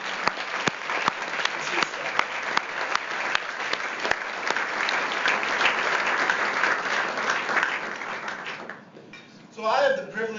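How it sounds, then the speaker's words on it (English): Big round of applause from a chamber of commerce audience in Phoenix for a panel, loud, dense and sustained, fading into a voice starting to talk near the end. "can you please give a big round of applause to our esteemed panel?"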